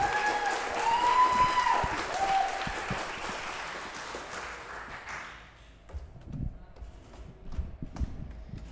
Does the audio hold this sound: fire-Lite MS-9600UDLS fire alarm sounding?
no